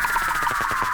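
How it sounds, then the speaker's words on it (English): A pitched-down sample with its formants lowered sweeps downward for about a second in a short, smeared tonal fall with faint pulsing underneath. "I think it worked really well as like a down sweep"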